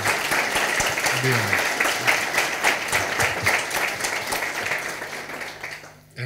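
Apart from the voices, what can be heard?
audience applause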